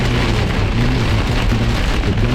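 Heavy thunderstorm rain in Iowa County, Wisconsin, pouring steadily onto a car with dense, loud hiss and low rumbling drumming, no pauses and no voices.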